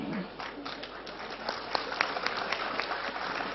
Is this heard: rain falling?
no